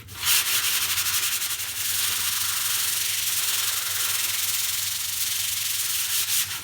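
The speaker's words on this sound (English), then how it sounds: "I have a piece of 220 grit sandpaper, and I'll just sand this back down to" Steady, continuous 220-grit sandpaper rubbing on a tenor guitar's wood, a loud, close, hissing scrape that keeps going without pause.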